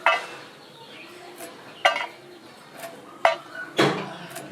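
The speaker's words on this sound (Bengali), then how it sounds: "এবার ডাটাগুলো আমি ছোটো ছোটো করে পিস করে কেটে দিচ্ছি" Knife cutting young drumstick shoots into small pieces on a board, four separate sharp chops spaced out over a few seconds, close and distinct against a quiet background.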